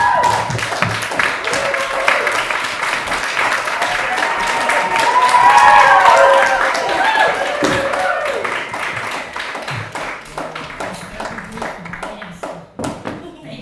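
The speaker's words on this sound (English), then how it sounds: "Can we clap it up for the phone cake?" Sustained audience applause at a fundraising show, many hands clapping steadily, swelling in the middle and then thinning out, with voices talking over it.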